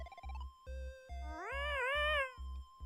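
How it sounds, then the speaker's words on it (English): A cat meows in the video game Yume Nikki, a synthesized rising and falling mew over a looping, pulsing game soundtrack with low rhythmic thumps and a steady tone. "Cat noises, it's doing something."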